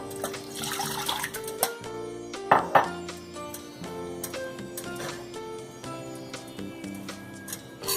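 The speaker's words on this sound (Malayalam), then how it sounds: "അത്ര 1 കപ്പ് വെള്ളം ഒഴിക്കുക." About a cup of water is poured into a pressure cooker while a Kerala kurukku kalan is made, giving a close, splashy liquid trickle with a few sharper splashes over faint kitchen background.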